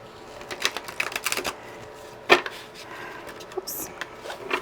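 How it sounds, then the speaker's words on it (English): Zombie tarot cards being shuffled by hand, a series of soft irregular papery riffles and taps with one sharper clack, close and fairly quiet. "Give it one more shuffle."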